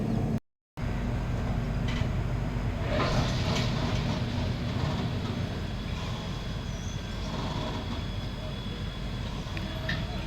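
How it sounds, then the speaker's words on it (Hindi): Kalinga Utkal Express passenger train rolling past near Rishikesh toward Raiwala Junction, a steady broadband rumble of wheels and carriages sustained throughout at close range, with faint clanks and no talk. "कलिंग उत्कल एक्सप्रेस जा रही है अब रायवाला जंक्शन की दिशा में।"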